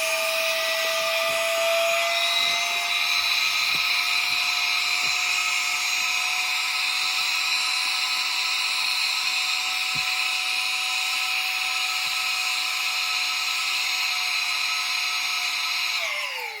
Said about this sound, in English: Okay, you can see it vacuuming.